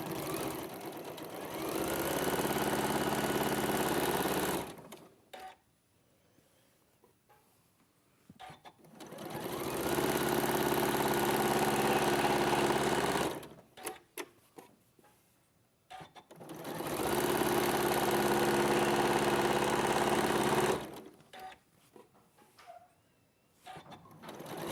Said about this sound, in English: just sew along those lines